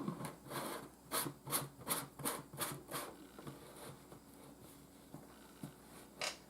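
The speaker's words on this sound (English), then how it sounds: "I'm using my fingernail to make sure I get in the little grooves." A fingernail scraping the small grooves of a honey jar, a faint, close series of short raspy rubbing strokes in quick bursts, then a few scattered scrapes.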